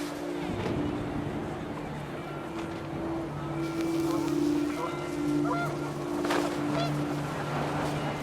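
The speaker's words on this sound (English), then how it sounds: "The wind picked up, and panicked geese appeared and quickly went." Panicked geese honk in What Remains of Edith Finch as wind rises in an outdoor scene, scattered calls rising over a constant windy, motor-like drone.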